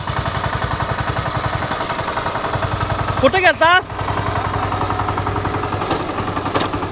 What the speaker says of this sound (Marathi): हे आलं का पॉवर ट्रॅक्टर घेऊन